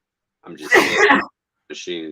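A single sneeze bursts out mid-conversation, close and loud, followed by someone talking.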